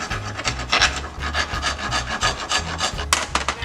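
A file rasps back and forth across the edge of a used brake pad during a rotor change, rhythmic strokes about every half second, close and fairly loud with no talking.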